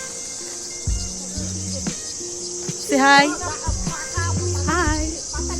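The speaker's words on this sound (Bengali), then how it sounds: "ঝিঝি পোকার ডাক।" Crickets in a forest between Siliguri and Gorubathan keep up a steady high-pitched chirring drone, with bird calls and a few spoken words over it.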